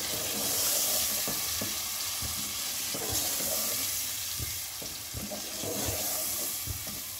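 Marinated chicken pieces fry in a pan for a green chicken curry, giving a steady close sizzle broken by repeated scraping stir strokes and clinks all the way through, with no talk.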